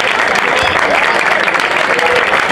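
Audience applause at the presentation of the A.C. Legnano football club: dense, continuous clapping from a crowd, loud and steady throughout, with a voice faintly audible over it.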